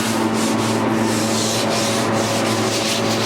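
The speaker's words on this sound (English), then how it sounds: "And just kind of lightly sanding" Fine sandpaper rubs lightly over wood coated in fast-dry vinyl sealer during an entry table build, making a steady, close, continuous rasping scuff with a quick back-and-forth rhythm and no talking.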